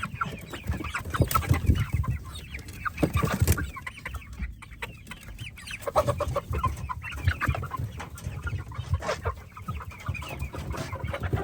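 Hens in a small coop enclosure cluck and murmur, close by and at moderate level, with scattered squawks and rustling over a continuous background hum, no talking.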